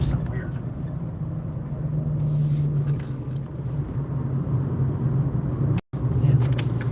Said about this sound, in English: God, my tires sound weird.